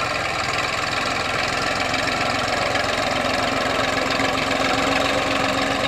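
A Massey Ferguson 1035 DI tractor engine idles steadily nearby, a continuous loud diesel chug with a low rhythmic knock that holds even throughout, with no talk.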